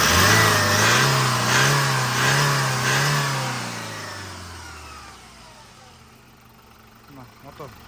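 A 2019 manual-transmission Hyundai Porter engine revs in rising and falling surges, loud and close, then settles toward a quieter idle.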